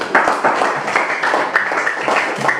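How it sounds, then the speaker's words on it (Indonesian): Classroom students applauding group 1 after a discussion, a dense burst of many hands clapping together for a few seconds, loud and close, with no talk over it. "Oke, kita beri tepuk tangan buat kelompok 1"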